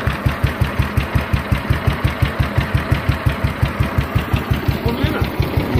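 A 1950 BSA B31 350cc single-cylinder motorcycle engine with a heavy gearbox idles slowly and steadily, its regular low thumping pulses close and loud from start to end, with a faint voice murmuring in the background.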